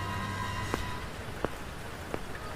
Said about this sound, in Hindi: बारिश की आवाज गूंज रही थी